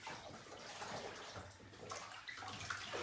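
Running water fills a tub or basin for a first bath of six-week-old Aussiedoodle puppies, a steady close splashing and gurgling stream throughout with no talk.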